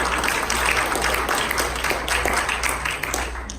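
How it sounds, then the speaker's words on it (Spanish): Congregation clapping during a church service, a short loud round of applause, dense and even, fading slightly toward the end. "Denle un aplauso al Señor."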